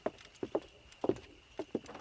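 Horse hooves in the video game Red Dead Redemption, with a quick irregular clip-clop of hoof strikes on firm ground, fairly close and clear, alone without talk.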